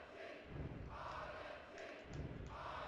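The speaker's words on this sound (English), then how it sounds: "I don't really care that they're booing me." Crowd noise from a WWF Attitude wrestling match on PlayStation, with an arena audience booing in broad swelling waves that rise and fall over a few seconds, loud and steady with no talk.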